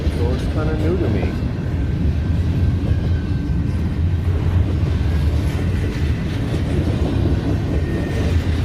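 Passing train on a Colorado road trip, a steady, loud low rumble of rail cars rolling by throughout, with faint clickety-clack over the tracks and some voices underneath.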